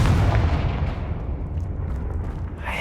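A deep rolling boom from a Confringo blast spell in a wizarding video game, loud at first and then a long low rumble that slowly fades, with no voices.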